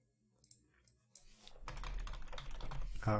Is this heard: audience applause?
no